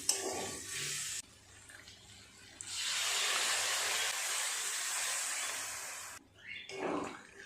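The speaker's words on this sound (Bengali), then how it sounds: "কিমাটাকে পরিমাণ মতো জল দিয়ে দিই" Water is poured into minced mutton cooking in a pan, making a loud, rushing splash for several seconds between quieter gaps, close by and without speech.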